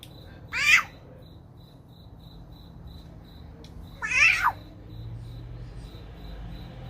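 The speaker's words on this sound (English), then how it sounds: "I thought I heard a cat." A cat meows twice, about three seconds apart, each call a short rising-falling cry over a quiet background with a steady high electrical tone.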